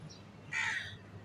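A single harsh, raspy bird call rings out over a quiet outdoor background where chickens are kept; kites are named as the callers, though the call sounds crow-like.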